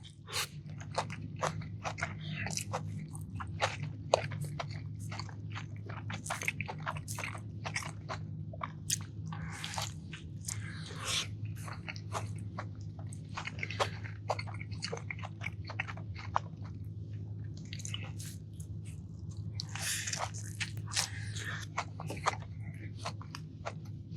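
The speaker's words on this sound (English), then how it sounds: "Potato cake adds a nice crunch to it." Loud, close biting and crunching of a fast food sandwich topped with a crispy potato cake, with repeated sharp crunches and chewing throughout, no talking.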